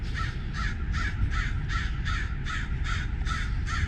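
A raven by the Snake River in Idaho caws about ten times in a steady, evenly spaced series. The calls sound moderately distant over a constant low rush of river and outdoor noise.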